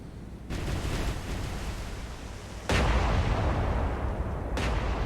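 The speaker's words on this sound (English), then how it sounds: "I'll have Washington fire some of her main guns." Main guns of the battleship USS Washington firing in the War on the Sea video game, two heavy booming blasts followed by long roaring rumbles that fill the space, loud and close, no talking.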